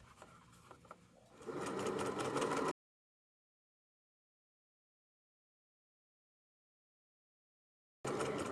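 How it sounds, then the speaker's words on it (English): A sewing machine runs along a hoodie sleeve hem in a short close burst after quieter handling noise. The sound then cuts out to silence before resuming briefly at the end. "I'm just going to sew up over the same seam line"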